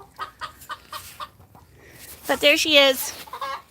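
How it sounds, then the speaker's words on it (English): Backyard chickens cluck in a short run of soft repeated notes, then louder squawking calls close by, while someone speaks briefly. "And there's my chickens."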